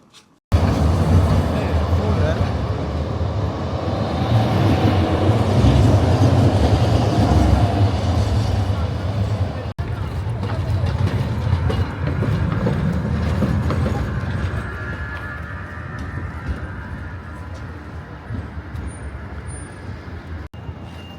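A tram rolls past in Krakow's old town, its loud rumbling wheels and clattering rail noise swelling close by and holding steady, then easing off toward the end.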